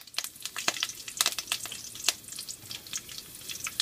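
Mustard seeds, urad dal and curry leaves tempering in hot oil, a close crackling sizzle full of rapid sharp pops and spatters over a constant hiss.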